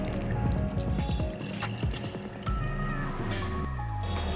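Water is poured into a vessel holding black urad lentils with kidney beans and chana dal for washing; a steady close splashing pour with bubbling trickle, alone and fairly clear.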